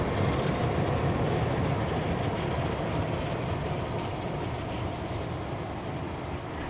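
Passenger train with carriages rolling along rails at Hunter Valley Steamfest in New South Wales, a steady loud rumble with a broadband roar holding constant throughout and no voices.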